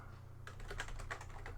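Rapid keyboard typing on a computer keyboard as a password is entered, a steady run of close clicky keystrokes over a low constant hum, with no talking.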